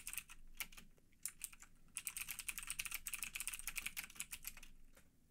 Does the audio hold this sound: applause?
no